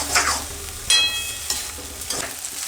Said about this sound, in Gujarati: હવે એમાં આ ઓરેન્જનો રસ. થોડીક વાર ફેરવી લેવું આમાં.